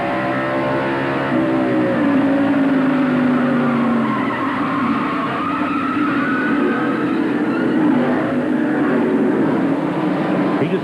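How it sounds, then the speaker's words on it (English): A stock car at Bristol in a 1994 NASCAR Winston Cup race spins out after its left front tire hits the apron, loud sustained tire squeal and skidding over roaring engines for several seconds. "hit the apron with the left front tire and just spun the car out"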